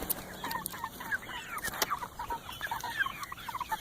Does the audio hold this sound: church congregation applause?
no